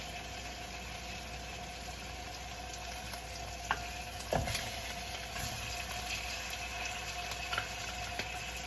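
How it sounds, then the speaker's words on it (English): Short ribs dusted in flour sear in a Dutch oven with a steady, even sizzle throughout, with a few soft clinks and shifts as the meat is moved. "So you want to sear these on all sides to cook that flour through."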